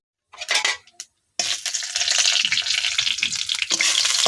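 Bay leaf dropped into hot oil in a pan for Bengali vegetarian aloo dum, a short sizzle, a pause, then a steady loud frying hiss with light stirring.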